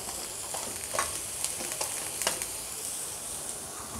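Onions, green chillies and capsicum fry in a pan, a steady close sizzle with a few light scrapes and clicks of a stirring utensil scattered through it.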